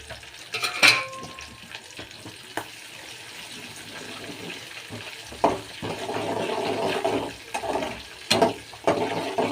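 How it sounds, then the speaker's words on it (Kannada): Green chilies hit hot oil in a pan while kara pongal is being cooked, setting off a bright sizzle that swells partway through, with a few clinks and stirring noises around it. "ಈಗ ಹಸಿಮೆಣಸಿನ್ಕಾಯಿ ಹಾಕ್ತಾಯಿದ್ದೀನಿ."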